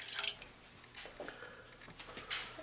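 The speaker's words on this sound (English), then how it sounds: "And then add the water." Water pours and splashes into a cooking mixture of kidney beans and coconut milk, brief close wet dripping and sloshing with no speech.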